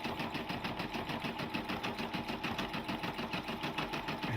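A Brother LB6800 combination sewing and embroidery machine stitches an embroidery design, a close, steady, rapid rhythmic whirring and clattering of the needle that carries on without pause and with no talking.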